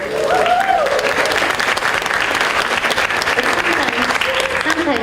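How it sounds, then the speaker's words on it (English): An audience applauds the first female Swedish ambassador to the United States, a dense continuous wash of clapping from a large crowd with a voice speaking over it. "it's very nice of you to give me applause"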